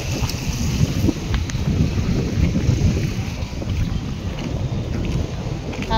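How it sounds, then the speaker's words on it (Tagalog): Strong wind buffets the microphone at a seawall beside the sea with fish cages offshore, a steady loud rumbling roar that runs unbroken throughout. "Hangin kaayo."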